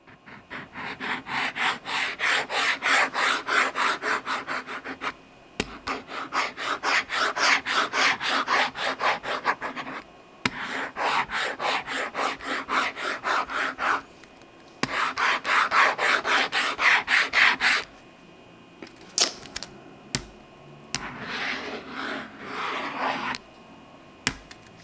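Ceramic nib rubbing back and forth across a Supernote e-ink screen while erasing, a close, steady scratchy rasp in four long bursts with brief pauses, then shorter intermittent strokes.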